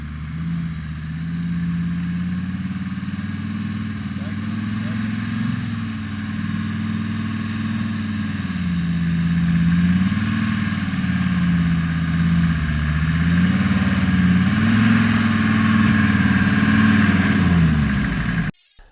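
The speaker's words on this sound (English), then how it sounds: "The sounds of a 5-cylinder Mercedes turbo diesel engine, in my opinion, are unmatched." A Jeep Cherokee with a 5-cylinder Mercedes turbo diesel engine and side exhaust: a loud, steady low diesel drone with rising and falling revs while driving, ending abruptly with no talk.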